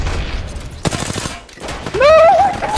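Sharp gunshots ring out in a shooter video game, a few loud close bursts separated by brief gaps, followed by a whining, wavering electronic tone toward the end.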